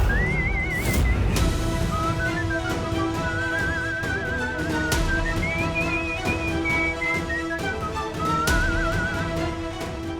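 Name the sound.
person whistling a tune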